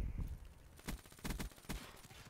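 A few short bursts of video game gunfire, quiet and somewhat distant, coming in separate clusters with no voices.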